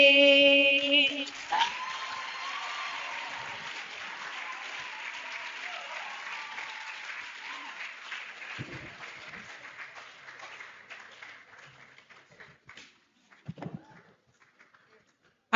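A graduation audience at the African Science Academy breaks into dense applause right after a short musical passage, the clapping strong at first and then gradually thinning and fading to scattered claps and near silence.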